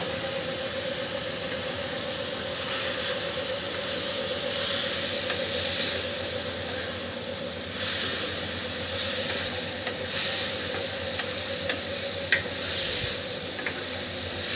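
Large fish pieces sizzle in a pan of well-cooked tomato masala for a fish curry, a continuous close hiss and crackle that swells and fades slightly over about fourteen seconds with no voices.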